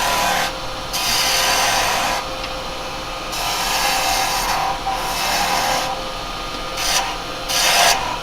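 A carbide detail chisel cuts a wood workpiece spinning on a lathe, giving a steady rasping, scraping hiss in repeated passes of a second or two, with short pauses between them; close and fairly loud, no voices.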